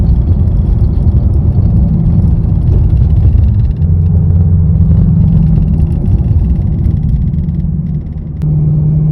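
Inside a 2020 Ford Mustang GT on the move, a constant low engine and road rumble dominates while a faint rattle from a loose interior part comes and goes beneath it, with no talking.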